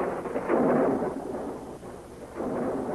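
Rolling thunder from a storm in a radio drama, a low, sustained rumble that swells, fades slightly in the middle and builds again, heard alone without voices.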